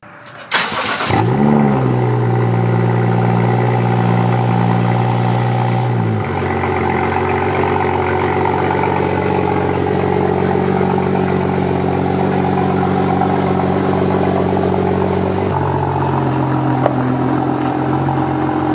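A BMW with both doors removed starts and runs, its loud engine holding a steady idle before dropping to a lower, rougher drone that carries on without pause.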